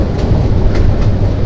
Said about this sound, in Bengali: এই যে আমাদের ট্রেন যাচ্ছে